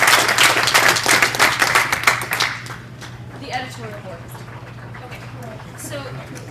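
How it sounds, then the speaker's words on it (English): Audience applause for a representative, dense and loud for roughly two seconds before fading into quieter room murmur and a few voices. "So let's give a round of applause to our representative."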